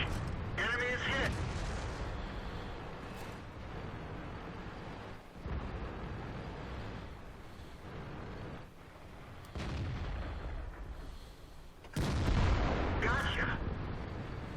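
Tank cannon fire in World of Tanks lands on an enemy, with several heavy booms over a rumbling engine bed, the loudest blast near the end, and someone talking between shots.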